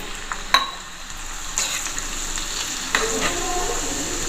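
Sliced garlic for sarson ka saag sizzles steadily in hot oil as it fries toward golden, with a few sharper crackles and stirring clatters standing out over the continuous hiss, close and moderately loud.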